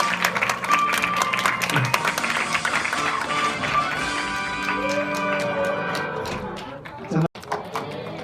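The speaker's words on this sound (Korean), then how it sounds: "큰 박수 좀 보내주겠습니다." Audience applause at a youth film festival award ceremony in Gwangju, South Korea, steady dense clapping sustained for several seconds under a faint background tone, with talk partly over it.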